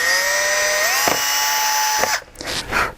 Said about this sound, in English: I would just drill the center of this hole here